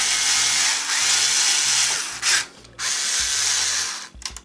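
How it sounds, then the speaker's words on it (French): A cordless screwdriver fitted with an angle attachment drives screws to mount an HP motherboard inside an NEC PC case. Close, loud whirring bursts are separated by brief pauses, and a few quick stuttering pulses come at the end. "je vais mettre cette petite option que j'ai reçue sur ma visseuse, comme ça, ce qui me permettra de visser de ce côté-là"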